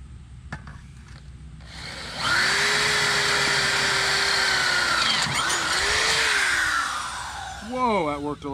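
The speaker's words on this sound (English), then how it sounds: "Got me a new drill." A new electric drill spins up to a loud, buzzing whir that holds steady for several seconds, dips briefly, then winds down as a voice speaks afterward.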